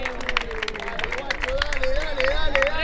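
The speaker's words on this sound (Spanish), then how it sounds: "Aplaudan" A crowd at an Argentine freestyle rap battle claps and cheers, dense scattered applause under loud voices and an announcer talking over the noise.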